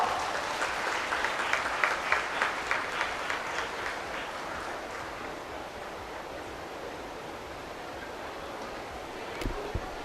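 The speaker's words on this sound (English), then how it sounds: "I request the audience to welcome ma'am with a huge round of applause." An audience at a university orientation day gives a round of applause, with rhythmic clapping that is clearer at first and then fades into a steady, distant hiss of hands in a large hall.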